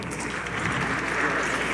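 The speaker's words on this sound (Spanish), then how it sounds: "Pueden aplaudirles, por supuesto, claro que sí." An audience at a university parliament event in the Senate applauds steadily as names are read out, a dense, even patter of clapping that holds at moderate loudness throughout.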